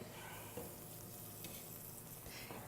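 A quarter cup of butter melting in a pan, a faint, steady soft sizzle with light crackles continuing evenly throughout, no voices.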